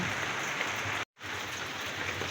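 Heavy rain hisses down steadily in a dense, even wash, broken by a brief dropout of silence partway through.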